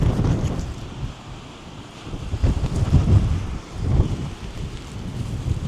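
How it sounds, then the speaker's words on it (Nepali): Strong wind gusts roar outdoors during a snowstorm, with buffeting low rumbles swelling and easing in waves across the clip, loud and close against the microphone. "वाह कस्तो हावा चलेको नि"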